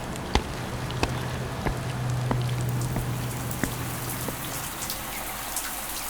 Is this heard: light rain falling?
yes